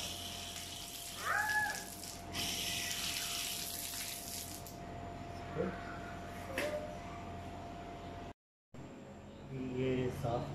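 Water runs and splashes through a pressure washer being repaired at home, a steady wash of flow with a brief dropout near the end.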